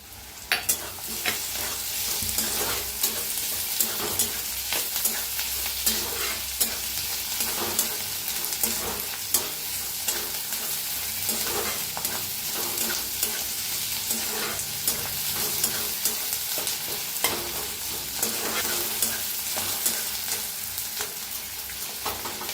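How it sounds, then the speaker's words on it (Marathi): Spring onion stalks roast in a hot pan with a continuous dry sizzle and crackle, punctuated by frequent small clicks and pops of stirring, steady and close without any talking. "आता इथं कांद्याचा पाताचा कांदा बी आहे, त्याला बी भाजून घेऊया."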